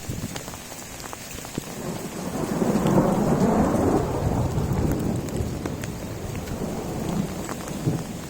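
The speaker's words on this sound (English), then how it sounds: "Here's another hailstorm we had before we finished." Steady heavy downpour of rain and hail with rattling hailstone impacts and a low rumble of thunder rolling through, continuous and close without a break.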